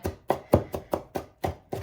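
Guacamole ingredients being chopped on a cutting board with a knife: seven or eight steady, evenly spaced thuds in quick rhythm, close and fairly soft, with no talking.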